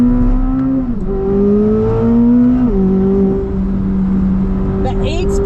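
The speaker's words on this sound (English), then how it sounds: "You listen to this thing without me talking." Inside a 2025 Corvette ZR1 on the move, the engine and exhaust drone loudly and close up, pitch climbing steadily and dipping sharply at two quick gear shifts, with no one speaking.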